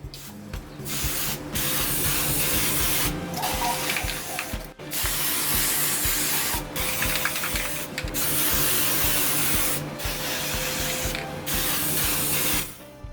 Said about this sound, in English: we can hit it with some Varathane semi-gloss sealer to help protect it